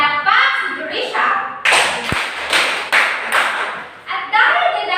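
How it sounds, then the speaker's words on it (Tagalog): A classroom gives five sharp group claps in an even rhythm, each a loud, close, clattering burst from many hands, with a brief tap between them and no one speaking. "Bigyan na limang palakpak si Jurisha."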